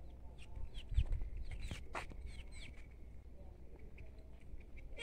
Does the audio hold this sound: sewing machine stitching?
no